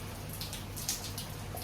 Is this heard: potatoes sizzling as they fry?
no